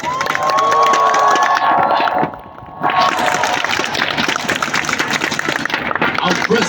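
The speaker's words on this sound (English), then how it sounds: "let's thank all our performers and participants today with this huge round of applause" A huge crowd at Singapore's National Day Parade 2025 cheers and applauds, loud and sustained, with a sustained tone over the noise at first, a brief dip midway, then the roar swelling again.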